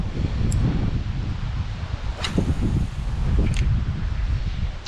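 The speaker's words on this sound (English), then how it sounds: "Just kind of let the wind just do its thing." Wind blowing across open water while a fishing boat drifts, a soft broadband rustle and low rumble on the microphone, gusting slightly, with a few faint knocks.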